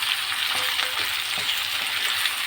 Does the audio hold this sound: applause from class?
no